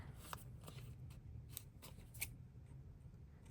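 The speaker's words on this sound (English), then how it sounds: "these are my glue scissors" Sticky glue-coated scissors snip paper in a few faint, soft cuts and rustles against a low steady background hum, close and quiet.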